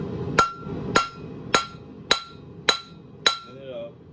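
Hammer drawing out a chisel tip on a 1/2 inch square steel bar, tapering two sides: six sharp, ringing blows land at a steady, even rhythm, close and clear with nothing else over them.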